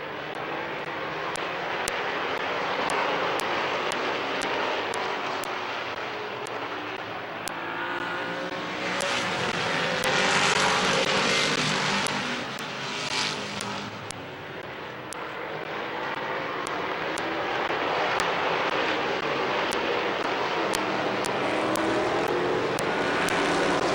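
Street stock race cars roaring around the oval at Midvale Speedway during a heat race, a loud continuous engine drone that swells and fades as the pack passes, with sharp crackles layered over the roar.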